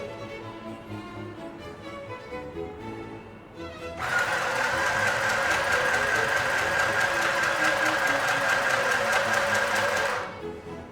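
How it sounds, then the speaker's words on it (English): A mini electric home sewing machine stitching cloth runs in one steady buzzing burst of several seconds after a quieter lead-in, heard close and loud, then stops abruptly. "Now I will put another cloth and show you in the same machine that the stitching is happening perfectly okay."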